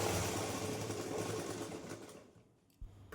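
Sewing machine running steadily while stitching a blouse, a continuous close whirring hum that slows and stops near the end, followed by a brief bump.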